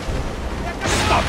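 Ship cannons booming in a naval battle aboard the Morgan in Assassin's Creed Rogue: dense rumbling blasts, one heavier boom near the end, loud and close, with shouted voices mixed in.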